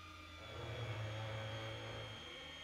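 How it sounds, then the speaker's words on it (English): An electric motor on a motor home's front overhead bunk whirs as the bunk rises, a steady drone swelling in and fading after about two seconds, close and moderately loud. "we simply push the button to make it raise up"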